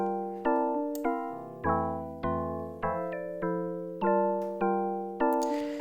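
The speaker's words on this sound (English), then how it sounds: "I've selected a patch that sounds like it has a lot of weird overtones" A soft wavetable synth tone plays a slow sequence of sustained notes, each struck and decaying, with rich, buzzy overtones; fairly quiet and alone.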